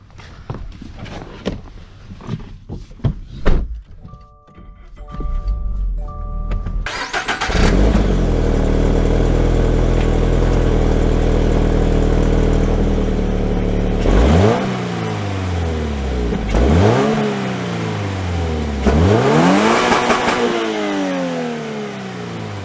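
A 2022 Toyota GR86 with a manual gearbox starts up after a few footsteps and clicks, settles into a steady idle, then pulls away with three rising revs, each followed by a drop for a gear change.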